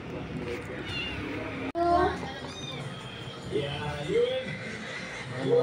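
A pet cat meows several times at close range, short rising and falling calls. People in a home talk over it and a voice and light laughter can be heard.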